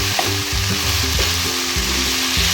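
Finely chopped cabbage, about four to five tablespoons, frying over low heat in a pan for chicken pasta in white sauce, giving a steady close sizzle with the scrape of stirring throughout the short stretch.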